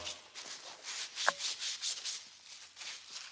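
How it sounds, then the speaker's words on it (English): A shop towel rubs over a metal ratchet to clean it, giving soft, rhythmic scrubbing swipes up close with one brief sharp clink of metal partway through. "I've not cleaned this ratchet in a long time."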